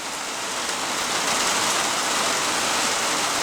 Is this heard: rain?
yes